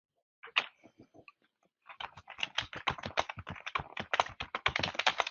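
Fast typing on a computer keyboard, a dense run of close, crisp key clicks after a brief opening flurry and a pause.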